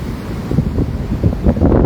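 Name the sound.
rough sea waves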